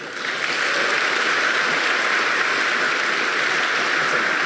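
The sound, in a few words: audience applause for debate speaker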